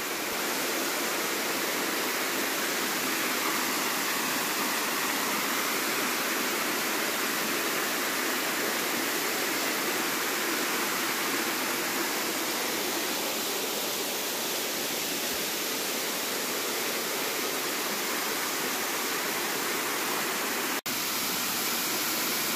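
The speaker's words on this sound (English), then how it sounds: "Okay, so here's the waterfall." A waterfall at Cloudland Canyon in northwest Georgia roars steadily and close by, a dense continuous rush of falling water with no voices.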